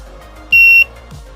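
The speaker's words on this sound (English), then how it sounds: "A buzzer and a LED is connected to give live feedback for dit and dashes." A small buzzer on a pocket ESP32 Morse code machine sounds one clear, loud, high beep, a short dash-length tone alone against a quiet background.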